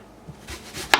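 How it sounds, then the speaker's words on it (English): A kitchen knife slices an onion into thin rings on a cutting board, with a few soft cuts leading up to one crisp, close chop at the end. "Now we're going to start chopping our onion. I'm just going to do little thin slices like this."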